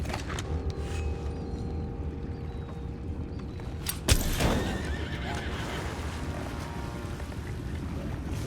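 Horses neigh and whinny in Red Dead Redemption 2 over a low ambient bed with faint hoof clops, and one sharp, louder whinny bursts out midway before the scene settles back to a quiet background.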